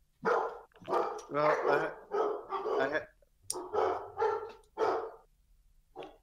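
Barking dogs, or a human voice imitating them, come in a series of loud, close, voiced bursts, with one short spoken word among them.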